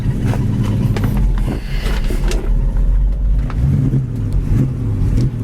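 A 1965 Ford Mustang coupe idles a little low, its V8 giving a loud, close, lumpy rumble with an uneven, pulsing beat and no talking.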